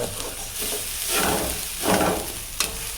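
Ginger garlic paste fried and stirred in a pan for a potato chicken gravy, with a steady sizzle and repeated louder scraping swells of stirring, close and alone.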